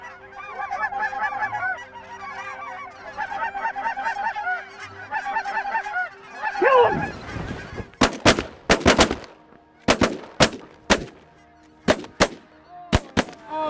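A flock of lesser geese honks steadily during a waterfowl hunt, rhythmic calls building overhead, then a burst of loud, sharp shotgun blasts fires in quick clusters, with scattered shots and honks continuing between them.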